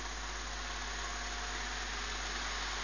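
Crossflow fan motor driven at 9 volts and 0.4 amps, a steady, even hum and whoosh that stays constant and close for the whole stretch, with no voices.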